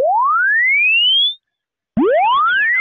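A rising synthetic chirp tone sweeps upward alone, then after a short silence returns hard-clipped, with a dense fan of harmonic distortion curves folding around it, loud and harsh.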